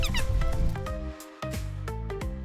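A cartoonish cat in a Toca Boca video game meows several times in quick, rising and falling calls, close and clear with no talking over it.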